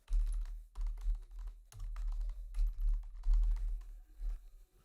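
Computer keyboard typing while entering a Java hello world program, soft muffled key taps in uneven clusters with short gaps, close but quiet, no speech.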